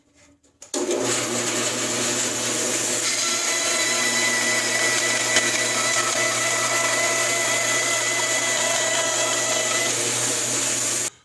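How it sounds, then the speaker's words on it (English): A wood bandsaw cutting metal starts abruptly and runs as a loud, steady whine with a grinding, rasping edge that holds for about ten seconds before stopping. "a bandsaw can be used for cutting metal"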